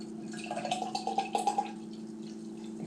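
Bud Light Seltzer from the 2021 Ugly Sweater pack, cranberry or sugar plum, poured aggressively into a glass: a quiet liquid pour with soft splashing and fizzing that builds, then fades as the drink settles.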